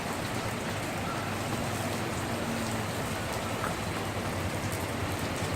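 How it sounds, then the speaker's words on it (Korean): Steady rain falls outdoors as a dense, even hiss of drops with no variation or pauses and no voices over it. "이거 비도 오는데"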